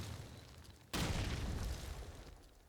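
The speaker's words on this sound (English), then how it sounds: "Dodging that important nade" A grenade goes off in Call of Duty 2, a sudden sharp blast followed by a long rumbling burst of noise that fades out, with a faint second pop at the end.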